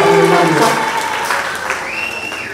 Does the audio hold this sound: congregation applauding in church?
yes